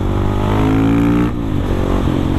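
A Husqvarna 701 supermoto's single-cylinder engine is close and loud, its revs climbing briefly, then dropping with a quick blip as it downshifts before a corner.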